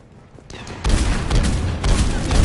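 Sustained gunfire in the video game Mass Effect 3, a loud dense barrage of rapid shots and booming impacts that swells after a brief quieter lead-in.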